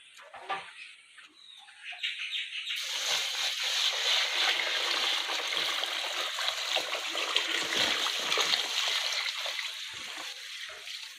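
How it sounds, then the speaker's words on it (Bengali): Water is poured onto paddy rice set to soak, a steady close rush and splash that starts after a brief pause and runs on without a break, with faint bird calls in the background and no talk. "এবার ধানের মধ্যে জল দিয়ে দিচ্ছি"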